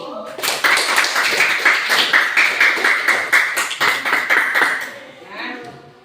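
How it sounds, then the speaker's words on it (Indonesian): Applause for a presenter after a talk in a teachers' coaching session, a small group clapping briskly and steadily for about four seconds, close and loud, then dying away with a brief murmur. "Kita beri aplaus untuk Akri."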